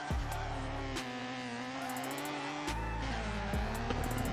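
A car drifting in the racing game FR Legends gives a steady, loud, continuous engine drone with stepped pitch shifts like gear changes and revving, plus brief bursts of harsher noise that may be tire squeal.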